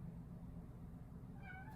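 A house cat meows faintly near the end, a short rising call over a low steady background hum, with no talk.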